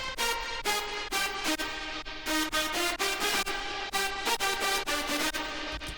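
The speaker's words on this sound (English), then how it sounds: "So I have 2 layers of this high harmonic lead down here." Two stacked layers of a bright, high harmonic EDM synth lead playing a choppy rhythmic pattern, loud and continuous with short gaps between notes.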